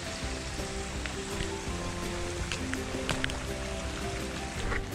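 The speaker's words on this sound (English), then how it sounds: "That rain is just relentless." Heavy rain pours steadily along a coastal walking track, with floodwater rushing down the path like a small river, a dense continuous wash of noise with scattered drips and splashes close by.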